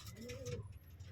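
Pigeons in a loft giving soft low cooing calls, faint and close, a brief burst of a few coos.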